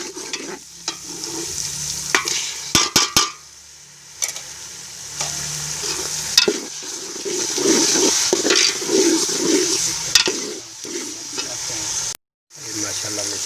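Masala and tomatoes frying with browned mutton for a white pulao, a loud continuous sizzle with stirring scrapes and a few sharp clanks, then a brief drop to silence near the end.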